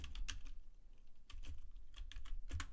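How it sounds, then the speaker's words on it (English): Typing on a computer keyboard, a steady run of close, quick key clicks with brief pauses, no talk. "I'm typing in raw shea butter from Amazon"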